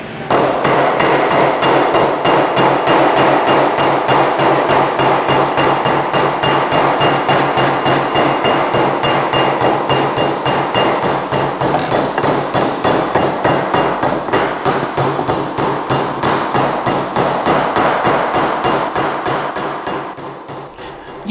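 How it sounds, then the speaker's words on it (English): Steady, rapid metallic hammer taps ring out continuously for about twenty seconds as an image of a dog is hammered into sheet metal, close and loud, easing slightly near the end. "my wife is hammering out the image of a dog on her piece of metal."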